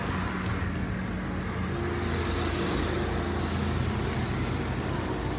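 Continuous road traffic in Yangshuo, with trucks and bikes passing: a dense, loud, unbroken rumble of engines and tyres, with no single vehicle standing out.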